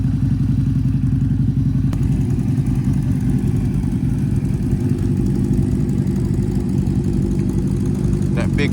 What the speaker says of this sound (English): To the rumble of that Harley.